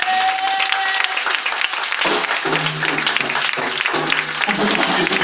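A church congregation applauds during a worship service, with steady sustained clapping filling the room throughout, and a few faint voices under it.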